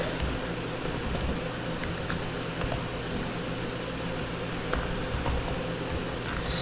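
Steady clicking of computer keyboard keys while code is typed, a continuous close-up patter of keystrokes over a low room hum and fan-like background, with no talking.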